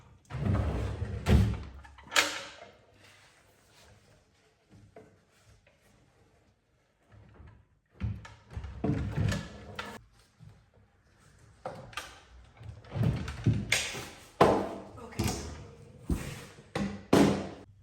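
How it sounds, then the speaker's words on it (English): A wooden drawer is lifted and tilted out of an old thrifted dresser, a series of knocks, thumps and sliding scrapes in irregular bursts with quiet pauses between, close up and with no talking. "I'm lifting and tilting the drawer out of its spot."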